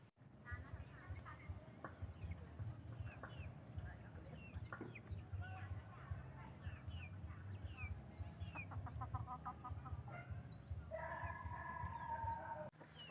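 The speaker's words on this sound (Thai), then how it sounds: "เดี๋ยวเราไปดูว่า ไก่ของเรามันจะกินไหมที่เราเอามาให้มันนะครับ" Chickens cluck and chirp repeatedly up close while pecking at azolla feed, with steady rustling and scattered bird calls running through the whole stretch.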